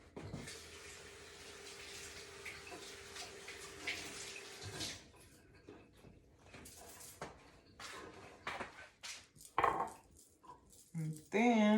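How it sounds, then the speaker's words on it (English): Water runs from a tap while hands are washed in a kitchen, a soft steady stream for several seconds, then quieter splashes, clatters and handling noises nearby. "So I'm gonna wash my hands"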